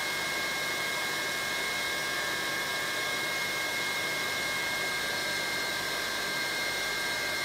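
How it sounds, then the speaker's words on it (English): A Miele Hybrid cordless vacuum cleaner, running on full power with a six-year-old battery, gives off a steady, high whining motor drone that holds an even pitch throughout, close up with no speech. "the pitch of the motor is definitely whining"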